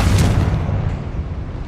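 A fiery Confringo blast spell explodes in the video game Hogwarts Legacy, a loud booming burst up front that rumbles and fades over under two seconds, with no talking.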